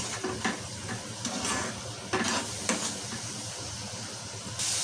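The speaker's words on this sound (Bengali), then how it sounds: "মশলাটা ভালোভাবে কষিয়ে নেব" Spice paste of chili, coriander and cumin sautéing in oil in a pan, a loud, dense sizzle broken by repeated stirring scrapes and taps against the pan.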